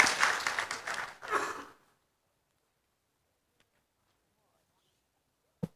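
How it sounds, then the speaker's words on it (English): Audience applause for the keynote speaker at an academic conference session: a short burst of clapping that fades out within two seconds, followed by near silence and a single sharp knock. "Please give applause to our keynote speaker, Prof. Sarina."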